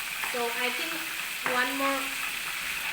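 Prawns sizzle steadily in a frying pan for Bagdadi prawns, a constant crackling hiss while someone talks over it.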